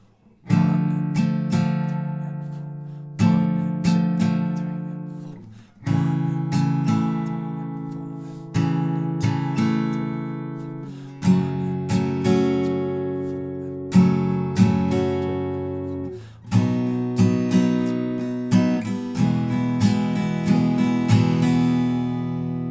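Guitar plays the second verse of a song: a steady sequence of sharply struck chords, each ringing and fading before the next, loud and close with no voices.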